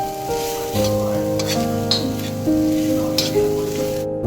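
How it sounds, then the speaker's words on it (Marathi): Grated coconut roasts in two to three spoons of ghee for patolya, a soft steady sizzle running under prominent music, with occasional stirring scrapes. "व्यवस्थित तुपात खोबरं भाजून घ्यायचं"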